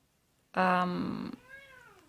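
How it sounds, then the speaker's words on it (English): A pet cat lets out a single clear, loud meow close by, tapering into a softer rising trill at the end. "sorry, that's my cat."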